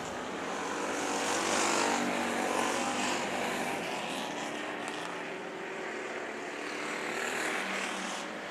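Race cars in a heat race at Bakersfield Speedway roar past as a sustained, loud engine drone that swells and fades slightly as the pack crosses the line, with no talk over it.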